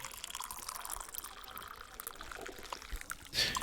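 Filter coffee being poured in the Barista Simulator video game, a steady liquid trickle with faint game background noise, ending in a brief louder burst.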